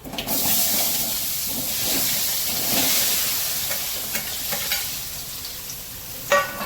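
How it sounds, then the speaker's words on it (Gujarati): Khaman pieces dropped into a hot hing tempering and stirred in a pan: loud continuous sizzling and hissing with steam, scraping stir strokes and a sharper clatter near the end. "હવે આપણે ખમણ એડ કરીશું."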